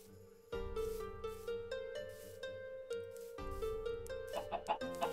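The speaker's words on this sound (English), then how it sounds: "Chickens are running around." Minecraft chickens clucking in short repeated bursts over a steady sustained tone, moderately loud with no talking.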